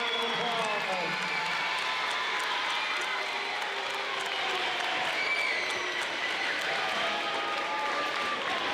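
A school awards ceremony audience gives a big round of applause: steady, dense clapping fills the room throughout, with crowd voices mixed in.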